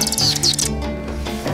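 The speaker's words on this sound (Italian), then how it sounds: "Ma quello è un falco, che cos'è enorme?" A large falcon at the Budapest zoo gives loud, close calls in a few sharp, descending shrieks over the first half second, then fades into a low ambient hum of the enclosure.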